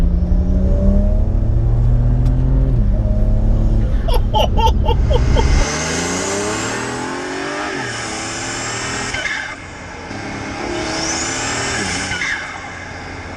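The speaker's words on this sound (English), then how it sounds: "Do a little 3rd gear pull, down we go." 539 bhp BMW 335i Touring pulling hard in third gear, a loud deep engine drone rising in pitch for several seconds, then easing into a lighter whooshing roar with rising whines as the car keeps accelerating.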